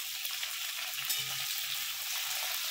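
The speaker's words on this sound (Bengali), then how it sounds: "একসঙ্গেই আমি সবজিগুলো একটা একটা করে ভেজে নেব।" Carrots, long beans and pumpkin fry in a wok for khichuri, giving a close, steady sizzle with faint stirring sounds underneath.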